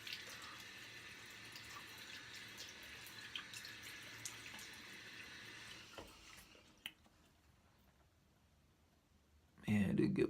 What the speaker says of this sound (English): Wash my face a little bit.